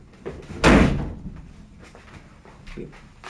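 A single loud door slam lands close by, a sharp thud that fades quickly, followed by faint knocks and room noise.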